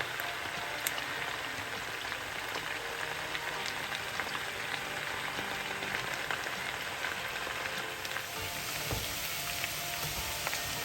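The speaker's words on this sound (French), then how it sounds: "c'est dans cette huile que je mets mes pommes de terre" Potatoes sizzling in hot oil already flavoured with garlic, onion and pepper, a dense, steady crackle and hiss from close up, with no talking over it.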